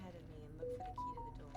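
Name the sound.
phone sound in video game Fatal Frame 5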